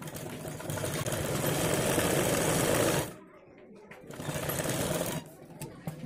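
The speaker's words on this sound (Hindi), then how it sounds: "इस तरह से हमें बराबर करते हुए एक सिलाई लगा लेनी है।" A sewing machine stitches fabric for a flower in two close, loud bursts of rapid mechanical whirring, with a short pause between them and a soft voice speaking underneath.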